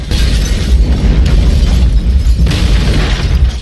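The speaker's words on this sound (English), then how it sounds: "So he runs the experiment, which leads to a massive explosion" A massive explosion in a Professor Layton game cutscene: a loud, sustained roaring rumble with heavy low end and crackling debris, holding without a break and swelling slightly, no voices.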